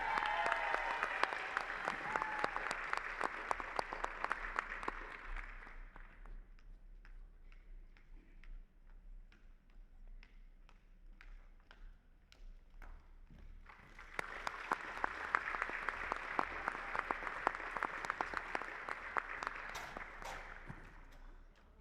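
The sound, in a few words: audience applause at awards ceremony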